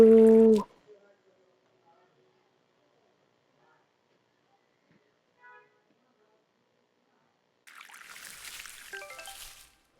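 After a long quiet stretch, water pours in a soft, hissing stream for about two seconds; a brief voice sounds at the very start.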